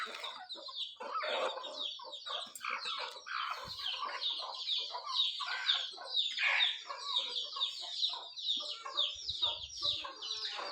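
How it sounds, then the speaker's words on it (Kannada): A mother hen clucks while feeding her native chicks in a shed, low steady clucks under a busy chorus of high, rapid chick peeps, close and continuous. "ತಾಯಿ ಕೋಳಿ ಯಾವ ಥರ ತಿನ್ನಿಸ್ತಾ ಇದೆ"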